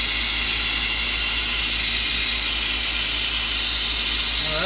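Nitrogen hisses steadily from a leak on a 1999 Carrier scroll compressor, a loud continuous broadband rush that holds alone and close for the whole stretch.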